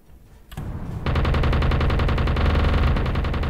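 Submarine deck-gun fire in the U-boat game UBOAT pounds out in a dense, rapid, continuous volley, loud and close, following a brief quieter onset.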